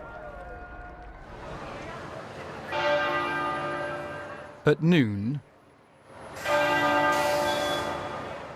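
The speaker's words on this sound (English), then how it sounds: "bells rang out in abbeys and cathedrals across the country to mark the passing of the UK's longest-serving monarch" Church bells ring out from abbeys and cathedrals across the UK on the Queen's death, heard as two loud spells of pealing with a brief spoken phrase between them.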